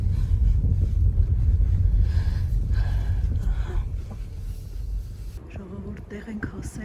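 Wind gusts through a forest on a cloudy day, buffeting the microphone with a loud, low rumble that eases toward the end and leaves faint rustling behind.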